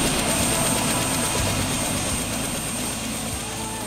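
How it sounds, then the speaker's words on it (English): A helicopter flying over the Florida Everglades, its loud steady engine and rotor drone filling the whole stretch without any voices. "the cat's in a place you can't access any other way except by helicopter"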